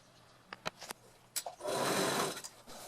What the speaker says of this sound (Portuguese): Vem costurar aqui.